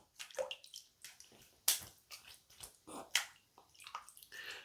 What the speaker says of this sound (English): All right, let's rinse this stuff off.